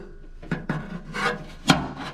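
Metal being trimmed while building coolant system parts for a Porsche 914 with a Ferrari engine swap, with a few short rasping, scraping strokes close up and one sharper louder scrape near the end, no talking.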